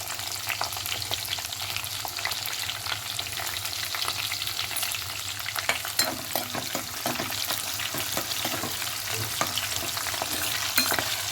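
Green chilies sizzle in hot oil as a tempering for shapu bhaji, a steady close-up hiss with scattered sharp crackles and pops running continuously throughout.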